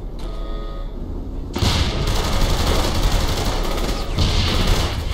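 Loud, sustained gunfire in Saints Row 3, with sniper shots mixed into a dense, continuous barrage that surges after a quieter opening, like a firefight close around the player.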